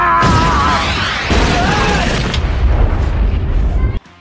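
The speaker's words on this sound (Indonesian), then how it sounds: "Tembakan meriam itu tepat mengenai kedai di mana mereka baru saja selesai makan." A heavy anime cannon shot hits a roadside eatery: a loud blast followed by a crumbling, rumbling debris roar for several seconds, ending abruptly.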